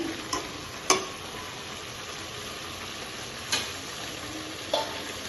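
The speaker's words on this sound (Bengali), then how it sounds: "মাঝে মাঝে হালকা করে একটু নাড়াচাড়া করে দিতে হবে তাহলে লেগে ধরবে না" Small fish such as mourala frying in a pan, with a steady quiet sizzle and four sharp taps from an occasional stir, close and with no voices.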